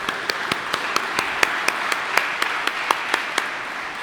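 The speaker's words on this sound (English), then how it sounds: "let's give them one more round of applause" Sparse, steady clapping from a small group at a marine heritage festival media launch, evenly spaced single claps continuing for several seconds without voices.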